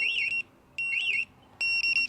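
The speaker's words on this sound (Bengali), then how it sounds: "গাড়িতে অ্যালার্ম বাজবে আমার রিমোট অ্যালার্ম বাজবে" A Tassock Ghost Extreme immobilizer sets off a car alarm: three short bursts of a warbling electronic tone, fairly close and clear with quiet gaps between them.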